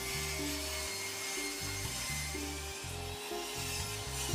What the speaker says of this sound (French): On découpe à 45 degrés.